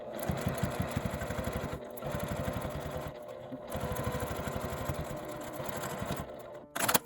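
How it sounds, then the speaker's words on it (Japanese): A close sewing machine stitches the outer fabric side of a zippered pouch in several bursts of rapid, rhythmic needle chatter, with short pauses between runs and a brief clack at the end. "この表布側を縫っています。"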